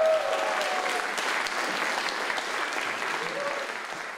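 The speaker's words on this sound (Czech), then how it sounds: "Zatleskejte mu," Audience applause at an outdoor bluegrass workshop concert in Malé Svatoňovice, a steady wash of clapping that holds for about four seconds and slowly fades.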